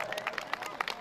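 A crowd applauds at a town fair in Zapotitlán Palmas. The clapping is brief, faint and fairly distant, a quick patter of scattered claps.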